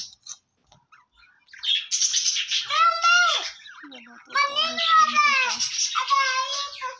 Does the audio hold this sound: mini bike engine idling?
no